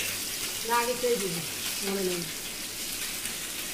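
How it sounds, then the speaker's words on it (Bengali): Chapila fish fry in a pan with a steady, close crackling hiss that runs throughout, while a voice briefly sounds over it. "আর মা এখানে মাছ ভাজা করছে"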